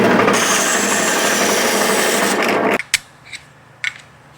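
A piece of wood is sawn in half at a knife maker's workshop in Fort Worth: a loud, continuous grinding cut runs for nearly three seconds, stops abruptly, then a few clunks and light knocks follow.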